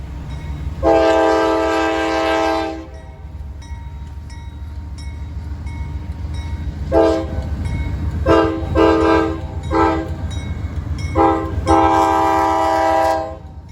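A CSX freight train rumbles past near the Patoka River bridge in small-town southern Illinois, its horn sounding in one long blast and then a series of shorter and longer blasts over the steady roll of the cars.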